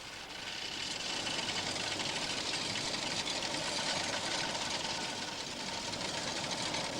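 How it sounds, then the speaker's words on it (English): A coin rimming machine rolling and squeezing metal coin blanks through a channel makes a steady, loud mechanical whir and rattle with continuous grinding texture and no pauses. "This is the rimming machine."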